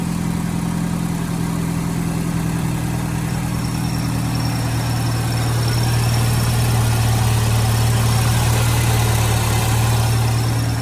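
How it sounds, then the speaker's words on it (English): A 1988 Chevrolet Cavalier with a small aftermarket muffler idles steadily for several seconds, a smooth, even low hum and throaty exhaust drone heard up close with no talking. "Listen to how good that engine runs."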